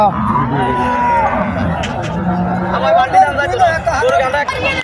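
A Haryana breed calf moos loudly and repeatedly at the busy Mirshanni cattle market, over a steady babble of buyers and sellers talking nearby.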